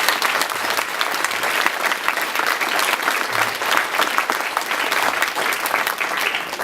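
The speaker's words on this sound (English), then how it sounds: "Please give a round of applause for Mr." At a girls' swim team banquet, a room gives Mr. Lawrence warm, continuous applause, dense and even from start to finish with no speech.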